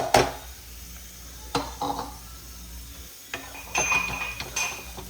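Ginger-garlic paste and lightly fried onions are stirred and fried in a pan for a street-style Bengali kabuli chickpea ghugni. A close, low sizzle runs under intermittent spatula scrapes and clinks against the pan.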